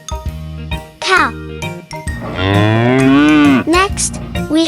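A cow moos in a long, loud, drawn-out call on a farm, preceded by short bright jingling notes, with a voice nearby.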